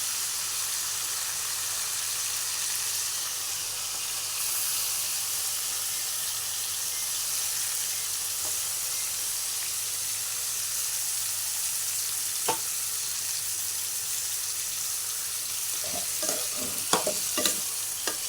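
Mutton pieces sizzle steadily in hot spiced tempering oil for a cucumber mutton curry, a continuous frying hiss with scattered stirring scrapes and taps growing busier toward the end, close and fairly loud, no voices.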